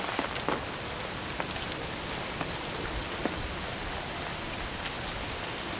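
Constant summer rain in the Peak District hissing and pattering steadily on a surface, with occasional louder individual drops, even and fairly close.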